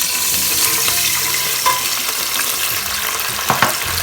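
Ghee and whole spices for zarda sweet rice sizzle loudly in a pan, a bright continuous frying hiss with a few soft stirring knocks near the end, close up and without talk.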